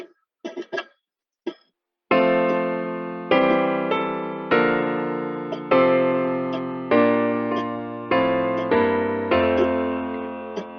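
Hymn arrangement played with changing chord inversions that shape a moving bass line, a few short tapping sounds first, then a series of sustained, evenly spaced chords that ring and decay, close and without talk.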